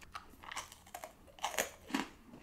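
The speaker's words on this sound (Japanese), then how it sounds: "これ咀嚼回数稼げるんで、そんなに何粒も何粒も食べなくていいかも" Crunchy Costco DJ&A freeze-dried strawberries are chewed close to the mouth, giving repeated crisp crunches and bites in an irregular rhythm, with no talk.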